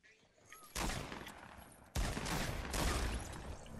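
Fortnite gunfire in a Battle Royale match near Dusty Depot: two loud bursts of rapid shots, the first starting about a second in and the second, slightly heavier, following shortly after, with no talk.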